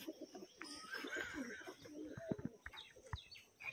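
A pigeon of a fancy flying breed coos in low, repeated throaty phrases, close by and moderately loud, with soft chirps and handling noise mixed in.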